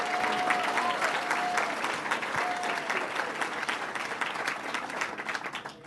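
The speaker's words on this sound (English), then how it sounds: "let's give them a round of applause." An audience claps steadily at a regional economic development council party, dense sustained applause that stays loud throughout and eases slightly toward the end.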